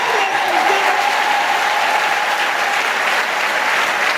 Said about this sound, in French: Acclamons pour Marie